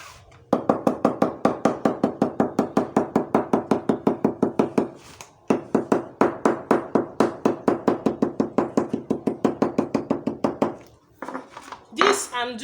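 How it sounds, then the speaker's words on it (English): Steady, rapid hard taps of a mallet striking the leather side of a box handbag, evenly paced in long runs with a brief pause midway, fairly close. "Make sure you hammer it very well."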